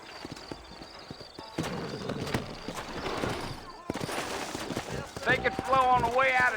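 Horse hooves clip-clop in the video game Red Dead Redemption, steady rhythmic footfalls alongside a horse's snort and whinny, with game dialogue and background music rising over them toward the end.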